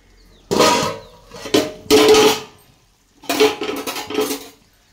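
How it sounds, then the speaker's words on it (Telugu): A metal lid is set onto a cooking pot of stuffed brinjal masala curry, giving several loud, close clanks and rattles in two bursts with a short pause between, no talking. "ఇదిగోండి మూత పెట్టి 10 నిమిషాలు సిమ్ములో ఉంచాలండి."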